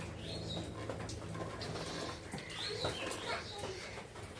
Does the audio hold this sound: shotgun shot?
no